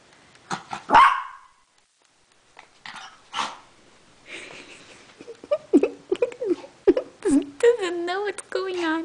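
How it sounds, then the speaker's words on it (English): A dog gives a few sharp barks and whining yips between pauses, close by, with short bursts of breathing and vocalizing toward the end. "Mac, where's the doggy? Go see the doggy."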